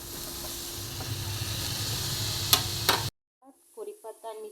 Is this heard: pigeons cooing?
no